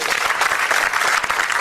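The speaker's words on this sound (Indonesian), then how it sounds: "tepuk tangan" Audience applause fills a comedy stage show celebrating a TV station's eleventh anniversary, a dense, loud, steady clapping with no talking over it.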